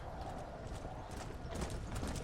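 Horse hooves clip-clop in Red Dead Redemption: Undead Nightmare, a quick, steady trotting rhythm of faint, muffled beats under game ambience, with mechanical creaks alongside.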